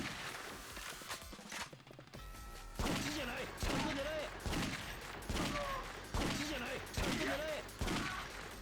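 Gunfire rings out in Yakuza Dead Souls, repeated bursts of shots in a regular rhythm, loud and near, with a voice speaking between them.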